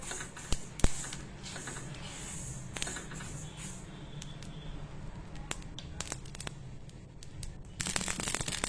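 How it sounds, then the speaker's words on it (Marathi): About 50 grams of mustard seeds roasting in a pan on low gas for mango pickle spice, giving scattered faint pops and crackles with a few sharper ticks over soft hiss. "गॅस कमी ठेवलाय मी, कमी गॅसवर ही मोहरी भाजते."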